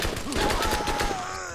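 Gunshots in Borderlands on PS3 arrive as a string of evenly spaced pops in quick succession, fairly soft, with a steady electronic tone humming beneath them and a faint voice mixed in.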